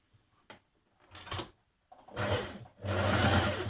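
Sewing machine running long basting stitches along a skirt seam, starting in short bursts and then humming in longer continuous runs, close and without talk.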